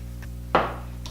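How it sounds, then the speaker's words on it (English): A single short spritz of Morphe Continuous Setting Mist, a soft airy burst that fades quickly over a low steady room hum, faint and with no talking. "This is the Morphe Continuous Setting Mist."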